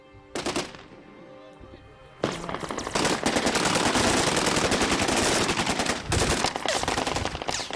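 Kalashnikov rifles firing during fighting in Homs, with a couple of loud single shots and then sustained rapid automatic bursts that overlap into a dense, continuous fusillade, close and intense.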